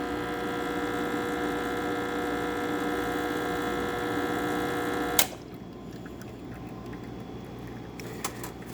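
Quick Mill espresso machine pulling a shot at constant pressure, a steady electric pump hum with a buzzing tone that cuts off abruptly partway, leaving quiet room noise and a faint click.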